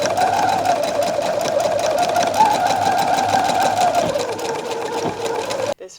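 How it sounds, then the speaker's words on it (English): Sewing machine running a zigzag stitch along a loungewear seam, a steady close whirring hum with fast regular needle chatter that slows slightly near the end before stopping. "I'll be sewing the seam along here, and then on the other side along here, zigzag stitch on the outside as well."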